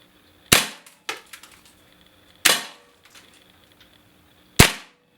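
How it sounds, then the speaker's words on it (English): A Colt M16 chambered in .22 Long Rifle fires semi-automatic inside a game room: three sharp, loud single shots spaced about two seconds apart, each with a short indoor echo, plus a fainter click between them. "this is an M16 with 22 long rifle, and we're firing at an indoor inside my game room"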